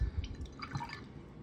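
Paintbrush rinsed in a cup of water while painting a Death Guard miniature, giving a few soft close drips and splashes, with a quiet liquid swirl fading out.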